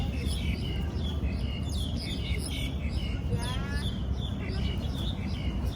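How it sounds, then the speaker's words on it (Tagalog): A large flock of birds at the Tai Koo Hong Kong station bird paradise chirps and tweets continuously, many overlapping calls over a steady background hum, with no talk. "Ang daming ibon!"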